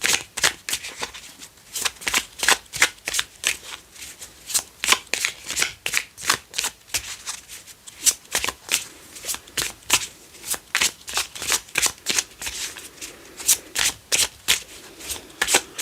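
Tarot cards are shuffled and handled in a steady run of crisp, riffling bursts that repeat rhythmically for the full stretch, close to the microphone with no talking.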